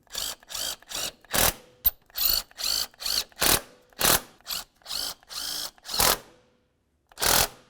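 Power tool tightening transmission mount bolts on a 2002-2006 Honda CR-V, a quick series of loud, evenly spaced short ratcheting bursts, close up, with a brief pause before a final burst.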